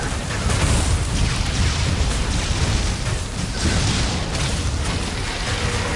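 Shots and heavy explosions from a boss fight in the Metroid Other M video game, with repeated booming blasts and rumbling bursts layered thickly and continuously over a loud, noisy background.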